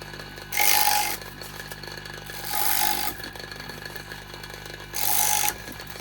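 A power tool cuts dry reed into tubes for Osmia bee nests, making three loud rasping bursts of about half a second each, separated by a steady mechanical hum, with no talking.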